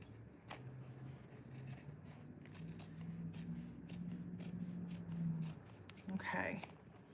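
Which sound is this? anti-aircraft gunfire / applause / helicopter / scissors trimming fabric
scissors trimming fabric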